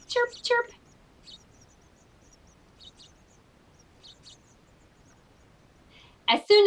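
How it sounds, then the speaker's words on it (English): Baby birds in a nest give short high chirps in a few scattered bursts, loudest at the start and end, with quiet gaps and a voice speaking between them. "you can see what the baby birds do when Mama leaves. They're chirping right now."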